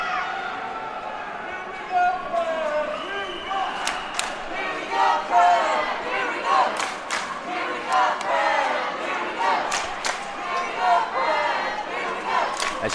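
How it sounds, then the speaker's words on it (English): Parents at a high school state swim final chant and cheer in rhythmic bursts, with sharp whistles and shouts rising over a steady crowd roar in a large echoing natatorium. "As you can hear, the crowd is getting excited for this one."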